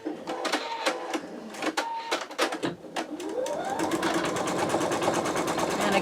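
Embroidery machine fitted with a Sew Tech PA116M 260x200mm magnetic hoop: scattered clicks and short beeps at first, then a rising motor whine settling into a fast, even, rhythmic stitching patter, close and alone.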